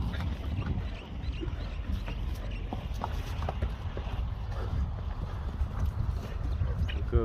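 Horses gallop in a horse race, a grey horse among the field, their hoofbeats a steady drumming clatter under continuous wind and a commentator talking throughout.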